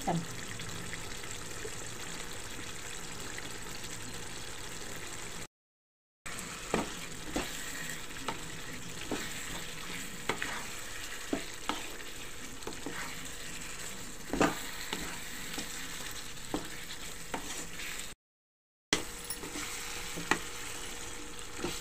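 Chicken pieces sizzle and fry steadily in a pan with spices, broken by repeated scraping and clinking as they are stirred through; a continuous close sizzle with two brief gaps.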